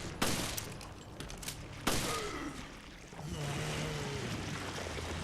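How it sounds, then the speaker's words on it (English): Handgun fire in Resident Evil Revelations: sharp broadband cracks near 0.2 s and 1.9 s, with smaller bursts between, over a steady droning game soundscape with swooping tonal effects. "That took about 40, 50 handgun shots."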